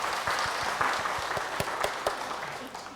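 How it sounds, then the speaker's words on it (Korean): A church congregation gives applause during Sunday worship, a soft, steady wash of many hands clapping at a moderate distance, with a few sharper low knocks scattered through it. "우리 하나님께 박수로 영광 돌리겠습니다"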